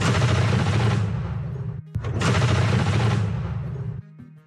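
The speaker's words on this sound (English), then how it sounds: "Pressing this trigger activates the twin 23mm autocannons, firing them in fully automatic mode." Two long bursts of sustained, thunderous fire from a ZU-23 twin-barrel 23mm autocannon on a two-wheeled carriage, each run lasting about two seconds with a brief gap between, loud and close, followed by a ringing tail.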